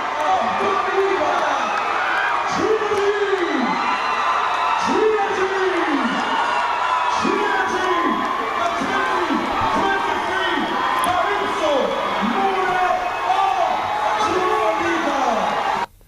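A crowd at the Dominica Calypso Monarch competition screams and cheers loudly and continuously, with rising whoops and bursts of shouting throughout, ending abruptly.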